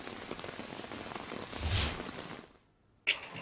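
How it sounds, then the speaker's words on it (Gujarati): Steady heavy monsoon rain patters across a surface in Kheda, Gujarat, a dense hiss that drops out abruptly near the end before resuming. "મુશળધાર વરસાદની શરૂઆત થઈ છે"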